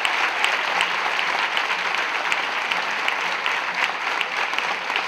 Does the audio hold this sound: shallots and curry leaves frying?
no